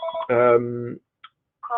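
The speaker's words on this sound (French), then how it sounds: "excusez mon téléphone me déconcentre, je vais attendre qu'il arrête de sonner" A mobile phone rings with a bright, tonal melodic ringtone. It plays in short bursts with brief gaps, close and fairly loud.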